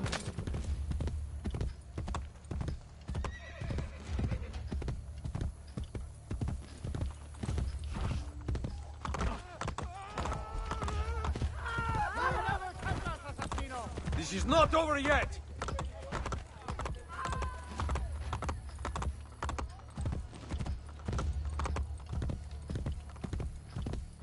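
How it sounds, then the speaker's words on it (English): Horse hooves clip-clop steadily and close in Assassin's Creed Brotherhood Remastered, with an occasional whinny and game voices talking over the rhythmic trotting. "And the horse just keeps wandering off."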